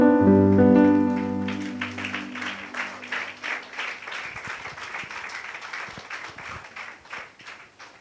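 A church congregation breaks into steady applause in praise after a held musical chord fades, many hands clapping together as a dense, fairly close patter that carries on to the end.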